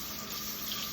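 Tap water runs in a steady, hissing stream from a home faucet into a sample container, continuous and fairly close, with no voices.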